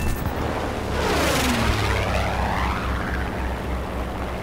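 Propeller engine of the VL Pyörremyrsky fighter plane, fitted with a German Daimler-Benz engine, in a video game: a steady loud drone with a sweeping pitch shift as the aircraft passes close by.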